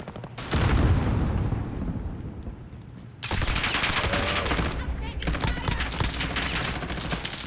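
Gunfire in Call of Duty: Modern Warfare rings out in loud, dense bursts of rapid automatic shots with booming impacts, a short lull, then another sustained volley; a player's voice comes through faintly.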